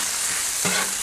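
Octopus sizzling and crackling loudly in hot oil on a hot plate, with a brief stirring scrape partway through.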